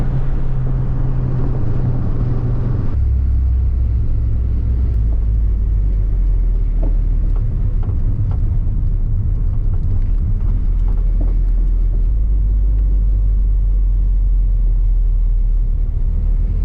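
Car driving on the Nürburgring Nordschleife, a loud, steady low rumble from inside with engine note shifting and wind buffeting throughout.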